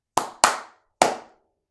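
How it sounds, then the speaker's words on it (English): Three sharp hand claps mark a fiddle tune's rhythm, two close together and a third after a short pause, each bright and close with a brief decay, in a quiet room. "You can maybe clap it"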